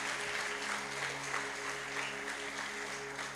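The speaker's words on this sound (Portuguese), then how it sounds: "Os irmãos podem aplaudir ao Senhor Jesus por essas vidas." A church congregation applauds together, a steady, dense wash of clapping that fills the room evenly from start to finish with no voices rising above it.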